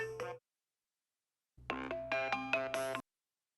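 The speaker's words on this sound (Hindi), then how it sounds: "देखो भाई तुम्हारा फोन आ रहा है।" A phone's electronic ringtone plays a short melodic burst, pauses, then plays a longer run of bright repeated notes, clear and close.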